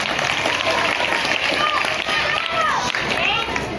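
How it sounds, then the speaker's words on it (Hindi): Children at a government school anti-drug awareness campaign clap together as a crowd, a dense continuous patter mixed with kids' voices and chatter throughout. "ताली बजा"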